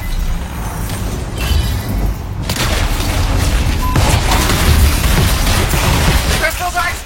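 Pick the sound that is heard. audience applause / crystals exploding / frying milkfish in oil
crystals exploding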